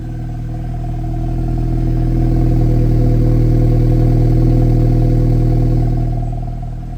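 Steady car engine drone from inside a vehicle on a South African road trip, a smooth continuous hum holding at even loudness throughout with no voices.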